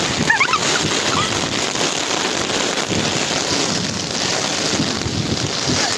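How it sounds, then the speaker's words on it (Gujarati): Strong wind gusting across a rooftop during heavy rain, with umbrellas held against it; a steady, loud rush of buffeting wind fills the whole stretch without a break. "આમ જુઓ કેવો પવન"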